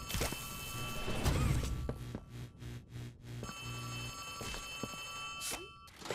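A telephone rings inside the Poppy Playtime Chapter 3 video game, its repeated electronic bell tones sounding over layered game ambience and music with a few dull thuds.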